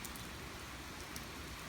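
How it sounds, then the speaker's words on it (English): Rain falling in summer, a steady, even hiss of drops on surfaces, faint and continuous with no voices. "I wouldn't want to be driving in this rain"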